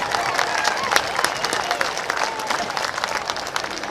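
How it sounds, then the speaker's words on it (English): A crowd applauds at a varsity high school football game, dense steady clapping with scattered cheers filling the whole stretch at moderate loudness. "Let's give them a big round of applause."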